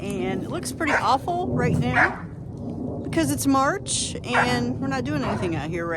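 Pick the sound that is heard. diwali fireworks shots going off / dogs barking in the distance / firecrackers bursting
dogs barking in the distance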